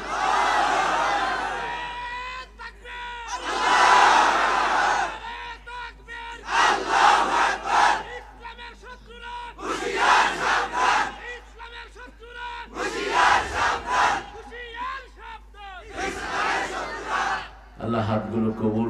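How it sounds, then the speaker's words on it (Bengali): A crowd at an outdoor Islamic sermon shouts takbir loudly in repeated surging bursts, each swell rising and falling with short gaps between, the many voices blending into a roaring chant. "জোরে জোরে তাকবীর দেন।"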